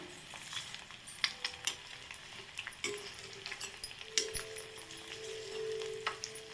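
An egg pouch sizzles and crackles steadily as it fries in a pan at home. Sharp pops and crisp clicks of spattering oil stand out through the middle and end, with no voices.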